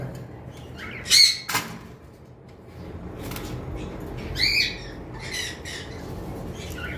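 A tame conure parrot lets out two loud, harsh squawks a few seconds apart, with softer chirps and squawks in between, close by over a low background hum.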